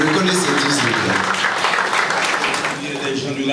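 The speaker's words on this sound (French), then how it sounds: "Applaudissez-le, s'il vous plaît" An audience at a youth-promotion event applauds with dense, loud clapping that runs through the whole stretch, easing slightly toward the end, while a voice carries on over it.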